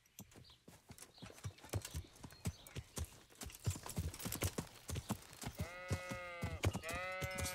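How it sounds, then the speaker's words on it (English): Rapid hoof clip-clops from a horse in Kingdom Come: Deliverance patter steadily, then the horse whinnies loudly twice near the end over the continuing hoofbeats. "Horse."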